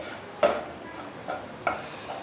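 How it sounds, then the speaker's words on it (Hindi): Wheat flour roasting in ghee in a pan, stirred with a few sharp scraping clicks of a spoon against the metal over a faint sizzle. "और अच्छे से भून लेंगे घी में।"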